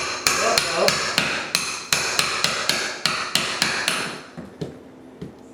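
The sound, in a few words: nail puller being hammered to pull nails from a floor joist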